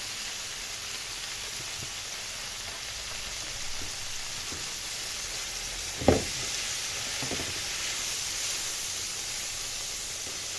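Liver frying in a pan on a gas stove gives off a steady, loud, hissing sizzle throughout, with one sharp clatter partway through.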